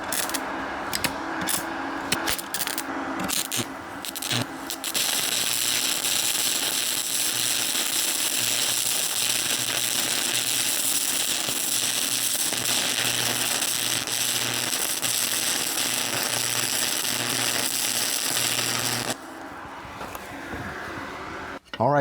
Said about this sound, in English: All right, she took a second to arc, but once she got it, it actually held in all right.